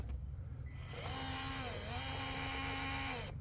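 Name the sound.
Traxxas TRX4m RC crawler brushless motor driving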